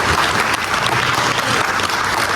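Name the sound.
audience applause at community meeting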